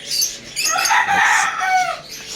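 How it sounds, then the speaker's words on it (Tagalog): Apache Gray gamefowl hens cluck and a rooster crows close by, a bright, loud burst of fowl calls that carries on for a couple of seconds. "Ito naman yung mga hen niya. Ito yung mga hen na nakapahinga."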